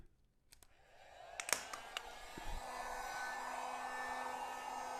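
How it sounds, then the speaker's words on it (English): A heat gun starts up and settles into a steady blowing whir as it warms a badge on a 2022 Chevrolet Silverado 3500 HD Z71, with a few light clicks and taps at the start. "or just get the heat gun, which I'm going to do."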